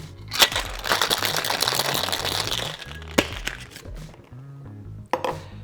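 Ice rattling inside a cocktail shaker as a mint green-tea drink is mixed: a dense, steady crunching clatter lasting several seconds, then a few sharp knocks and brief pauses.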